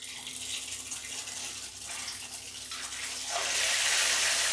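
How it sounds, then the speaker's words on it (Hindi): Ghevar batter poured in a thin stream into very hot ghee in a kadai, giving a steady broadband sizzle and hiss that swells louder toward the end, close and continuous with no talk. "और अब हम इसमें घोल डालेंगे।"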